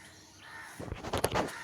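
A crow caws harshly several times in quick succession, loud and nearby on a rooftop, after a quieter stretch of outdoor ambience under cloudy skies.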